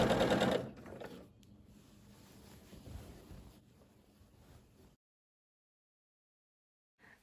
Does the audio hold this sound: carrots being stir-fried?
no